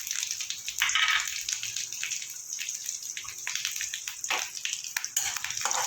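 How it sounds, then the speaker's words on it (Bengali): Asafoetida, bay leaf, fennel and green chili sizzle in hot oil, a bright continuous hiss and crackle with surging bursts of frying. "ফোড়নটাকে আমি কয়েক সেকেন্ড ভেজে নেব।"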